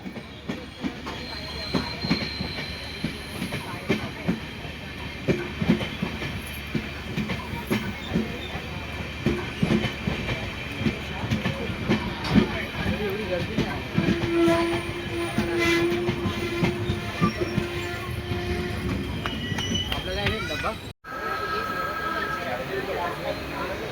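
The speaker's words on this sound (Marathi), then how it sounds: "वॅकॅम 3चा लोकोमोटिव्ह पण लागलेला आहे ट्रेनला" Passenger train hauled by a WCAM-3 electric locomotive running on rails, with a steady rumble, clacking wheels, squealing and horn blasts, heard from inside a coach as a person talks throughout.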